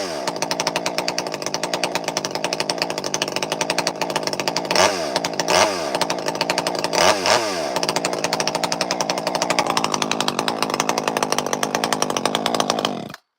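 A ported Poulan chainsaw with a 16-inch bar roars loud and close at high revs, its buzzing engine note dipping and rising a few times as the throttle shifts, then cutting off abruptly at the end.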